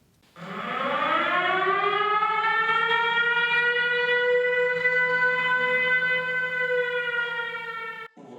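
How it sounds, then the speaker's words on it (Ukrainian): An air raid warning siren in Vinnytsia, Ukraine wails loudly, rising quickly and then holding a long, steady tone before it cuts off. "Система оповіщення повітряної тривоги працює бездоганно."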